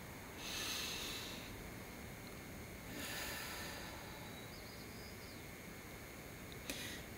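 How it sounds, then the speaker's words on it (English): Two soft, deep breaths drawn in through the nose, heard close and alone in a quiet room during a respiratory-system demonstration, with a faint hiss of air on each inhale. "take a deep breath"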